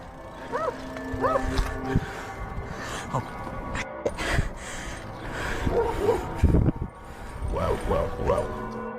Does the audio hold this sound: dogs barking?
yes